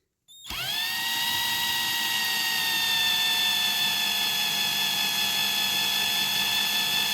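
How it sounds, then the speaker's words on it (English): A power drill whines steadily at high speed after a sudden start, drilling through the metal posts of a diecast Corgi Major Bedford tanker toy, a continuous loud mechanical drone with no talking. "I'm going to carry on drilling through these posts here."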